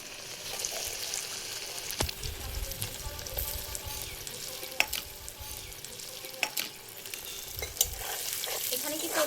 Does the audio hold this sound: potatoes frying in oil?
yes